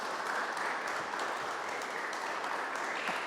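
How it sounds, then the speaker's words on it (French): An audience in a Saint Michel church applauding, a dense, steady patter of many hands clapping at moderate distance for a few seconds, with no speech over it. "on vous applaudit"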